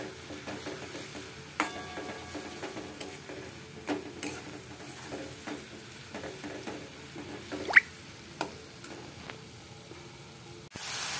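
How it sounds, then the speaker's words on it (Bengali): A ginger, garlic, chili and onion paste fries in oil in a pan, giving a soft, close sizzle broken by occasional stirring clicks and scrapes, with a louder clatter at the very end. "পুরো মশলাটাকে ভাজবো, যতক্ষণ না এর থেকে তেল বের হয় ততক্ষণ মশলাটাকে আমি এর সাথে ভেজে নেব"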